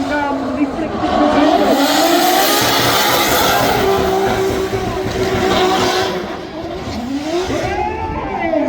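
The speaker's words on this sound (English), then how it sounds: "He goes down into that second roundabout, back on throttle once again" A drift car at Goodwood powers through a roundabout with a loud, close engine that rises and falls in pitch as the throttle comes back on, mixed with tire noise.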